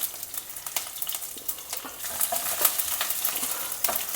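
Mustard seeds, urad and chana dal, chopped green chilies, ginger and curry leaves sizzle in hot oil in a pan, a close, busy crackle with the soft scrape of stirring throughout.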